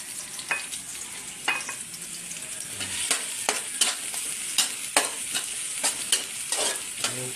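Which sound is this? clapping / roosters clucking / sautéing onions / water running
sautéing onions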